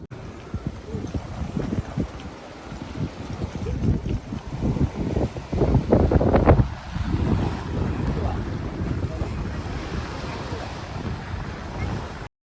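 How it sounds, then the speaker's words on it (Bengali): Strong wind buffets the microphone as sea waves wash onto a beach at night, a loud, continuous rushing roar that swells in the middle and stays steady throughout. "বাতাসের সাউন্ড, পানির সাউন্ডে মানে বেহুশ হয়ে যাওয়ার মতো অবস্থা"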